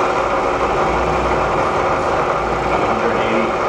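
A Bridgeport Series I vertical milling machine runs in low gear, a loud, steady, unbroken mechanical drone with a deep low hum that stays constant throughout.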